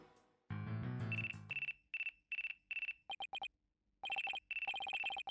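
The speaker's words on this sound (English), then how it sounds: "Looks like I have a phone call." Phone ringtone from the Ace Attorney Dual Destinies video game: a loud electronic melody that opens with a burst of layered chime tones, then repeats in short, evenly spaced beeping pulses with brief gaps, with no voices.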